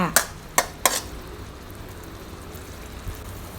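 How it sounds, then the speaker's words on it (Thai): A spatula scrapes and knocks against a pan as canned fish is stir-fried with seasonings, giving three sharp clinks followed by a faint steady background. "แล้วก็ผัดคลุกเคล้าให้ส่วนผสมทุกอย่างเข้ากันค่ะ"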